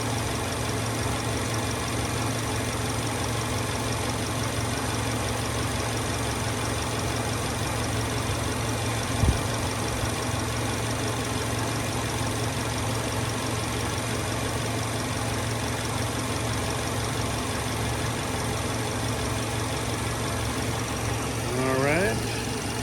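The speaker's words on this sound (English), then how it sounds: "I'm going to stand right here for 15-20 seconds so you can just hear it at idle." A 2011 Subaru Outback Limited with symmetrical all-wheel drive idles steadily, a constant close engine hum with an even low rumble throughout, with a brief faint clunk midway and a short rising tone near the end.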